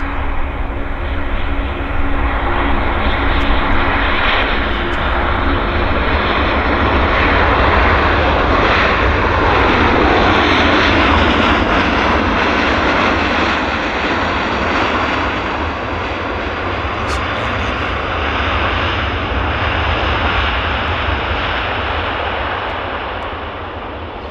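A WestJet airliner lands at Vancouver YVR airport, its engines making a loud, sustained roar that rumbles steadily for over twenty seconds and fades slightly toward the end.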